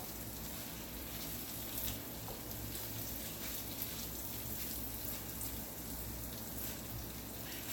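Whole garlic cloves sizzle gently in a pot of pasta fazool, a soft, steady, fairly quiet frying crackle that runs evenly throughout with no voices.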